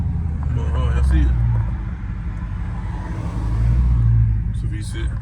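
Dodge Charger V6 driving past in rush-hour traffic, heard from inside a Scat Pack car: a steady low engine and road rumble that swells twice as the car goes by, with talk over it.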